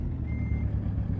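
A truck in Euro Truck Simulator 2 backs up with its reversing alarm, a steady high beep tone sounding over a low idling engine rumble, close and continuous.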